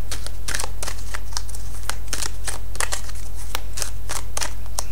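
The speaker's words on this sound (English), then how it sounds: "So I'm going to go ahead and start to shuffle the cards." Angel oracle cards are shuffled by hand, giving a series of crisp riffling and slapping bursts in an irregular rhythm over a steady low hum, close and fairly loud.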